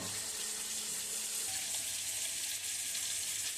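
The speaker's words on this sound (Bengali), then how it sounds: "চিকেনটাকে তেলের উপরে ভালো করে ফ্রাই করে নিচ্ছি" About half a kilo of chicken fries in oil in a home kitchen, giving a steady, broad sizzle that stays close and constant throughout. Nobody speaks.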